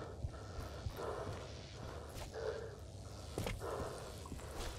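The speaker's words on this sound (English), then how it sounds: "God, the breathing sounds already is annoying me." Heavy breathing of a character in the video game Ripout, repeated sighing breaths and gasps in a steady rhythm with light footsteps, fairly faint and with no talking.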